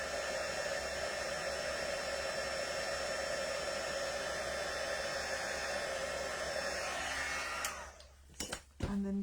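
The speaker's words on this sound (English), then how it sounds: "So I'm just setting this with the heat tool." Heat tool blowing steadily to set embossing powder on a stamped card, a constant airy roar held at close range for about eight seconds before it cuts off, with a few soft handling knocks at the end.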